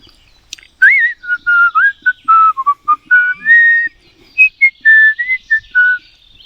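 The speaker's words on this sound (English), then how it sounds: "Now it's a different type of tit whistling there." Clear, close tit whistles in a quick series of short pure notes, sliding up and down, sung alone against a quiet background in the Scottish Highlands.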